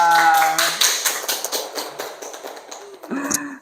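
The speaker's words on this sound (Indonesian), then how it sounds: "tepuk tangan untuk kita semua" A small group of students in a classroom claps together, with a burst of quick, uneven hand claps that thins out toward the end, and a voice speaks briefly afterward.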